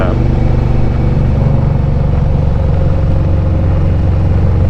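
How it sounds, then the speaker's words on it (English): Steady, loud engine rumble of a Harley-Davidson 107 Milwaukee-Eight motorcycle with a Redshift 468 cam and Khrome Werks full exhaust, cruising at constant speed, a deep continuous drone with no pauses. "riding his bike with the Redshift 468 cam, the Thundermax tuner, and the Khrome Werks full exhaust."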